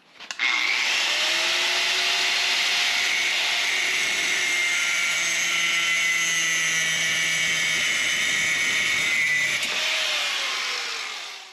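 A saw cuts through a steel input shaft right at the edge of its slip-on collar, making one long continuous grinding whine that starts abruptly, holds steady for about ten seconds, then fades out.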